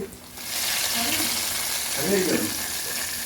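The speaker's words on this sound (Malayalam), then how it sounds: "ഇനി നമുക്ക് ഇതിനകത്തേക്ക് കുറച്ച് കടുക് താളിച്ച് വയ്ക്കാം" Mustard seeds tempered in hot oil and poured into a homemade chicken curry, a steady close sizzle and crackle lasting a few seconds, with faint scraping of a spoon stirring and light background talk.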